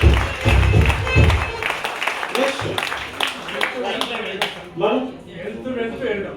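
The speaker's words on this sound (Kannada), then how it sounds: "ಒಂದು ಜೋರು ಚಪ್ಪಾಳೆ" An audience at an indoor sales training session gives a round of applause: scattered, fairly loud hand claps rising over a voice speaking, then thinning out as the talk carries on.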